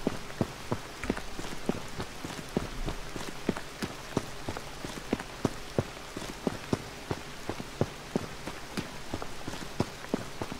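Steady rain falls in H1Z1 as a constant hiss, with sharp, evenly spaced taps standing out above it throughout.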